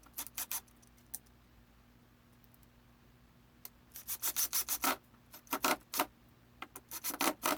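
Drywall screws being driven into plywood, a series of close, raspy grinding bursts, a few early ones then a dense cluster of rubbing, squeaking pulses, with quiet pauses between runs.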